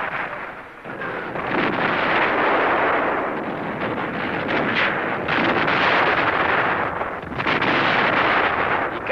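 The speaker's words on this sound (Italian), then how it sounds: "L'artiglieria sovietica posta in allarme spara nella foresta." Soviet artillery firing in a forest during wartime, a continuous roar of booming gunfire and rumbling blasts over several seconds, loud and dense with a few sharper reports standing out.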